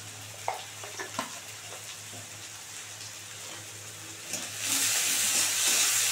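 Potatoes and onions, seasoned with salt and turmeric, fry in a pan. Faint sizzling and a few stirring knocks come first, then the frying swells into a loud, steady crackling hiss over the last seconds.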